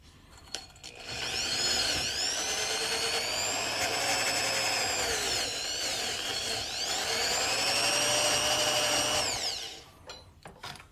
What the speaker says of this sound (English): Got my little inside drill.